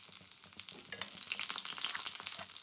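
Garlic, chili and onion sizzle steadily in hot oil at close range, with a dense, continuous crackle and occasional stirring scrapes and no voices.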